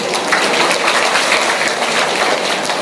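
A large audience at a Muhammadiyah anniversary gathering in Depok claps steadily and loudly throughout, a dense, even wash of applause with no speech over it.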